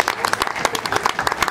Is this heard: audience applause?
yes